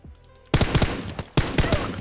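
Automatic gunfire in the PUBG Mobile game, with two loud close bursts of rapid shots separated by a brief pause and quieter game sounds beforehand.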